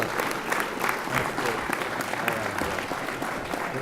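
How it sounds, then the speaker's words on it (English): An audience claps steadily for a group of mayors at a tribute event, a continuous, fairly close wash of applause with faint voices mixed in. "can you please give all these mayors a round of applause for the great work they're doing?"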